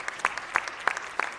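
Sparse applause at a city council meeting for the assisting presiding judge, a few distinct claps in a slow, uneven rhythm.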